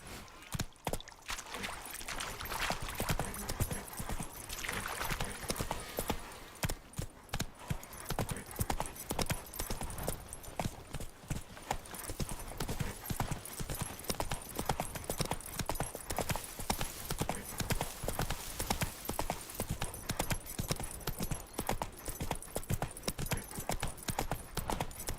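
Roach the horse gallops in The Witcher 3, giving a fast, steady, rhythmic hoofbeat that stays close and even for the whole stretch, with only a faint voice now and then.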